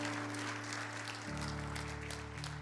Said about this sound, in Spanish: Le damos un aplauso a la palabra del Señor.